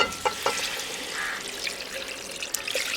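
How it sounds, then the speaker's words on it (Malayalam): Chicken stock poured into a pot for pulao makes a short, close trickle and splash of liquid over a soft background hiss, with a few small clinks. "അപ്പോൾ നമ്മുടെ ചിക്കൻ വേവിച്ച വെള്ളം ഇതിലേക്ക് ചേർത്ത് കൊടുക്കുക."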